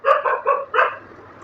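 Background dogs give four quick barks in a tight run at steady pace, then fall quiet, heard clearly at moderate distance against near silence.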